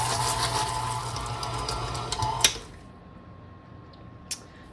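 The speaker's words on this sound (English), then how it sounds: "Now I'm going to add a cup of my Fruity Pebbles and mix that together." Fruity Pebbles cereal being mixed into cookie dough by an electric mixer, a steady whirring motor hum that runs for a couple of seconds, then cuts out, leaving near silence broken by a faint clink.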